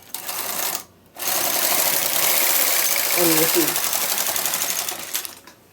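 A knitting machine carriage runs across the ribber bed, knitting circular rounds in waste yarn with a steady clattering mechanical rattle. The carriage pauses briefly, then resumes close and loud for several seconds.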